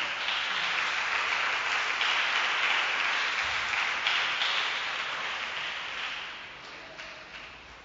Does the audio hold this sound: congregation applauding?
yes